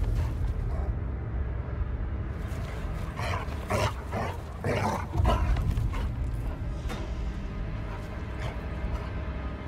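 Barking from a dog character in the horror video game The Casting of Frank Stone, a few loud, rough bursts over a dense, rumbling game soundscape.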